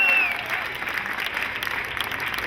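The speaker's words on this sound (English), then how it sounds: "Give her a round of applause." A rally crowd at the Capitol in Sacramento claps steadily in sustained applause, a dense wash of hands that begins loud and holds evenly.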